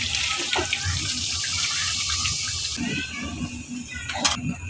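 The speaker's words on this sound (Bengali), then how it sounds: "এখন আমি জলের পানি দিয়ে দিব একটু" Water pours steadily into a pot of browned chicken, a close, continuous splashing gush with a few brief clinks and shifts in flow, and a short metallic knock near the end.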